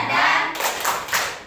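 A classroom group clapping a short spirit chant, a burst of several quick hand claps followed by two or three louder separate claps, close and bright with faint voices behind.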